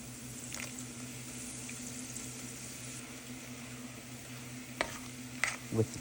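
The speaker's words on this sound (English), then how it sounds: "With the chilies, they are going to fry fairly quickly." Dried chilies frying in oil heated to about 300 to 325 degrees Fahrenheit in a pot, a steady low sizzle with occasional sharp pops and clinks near the end.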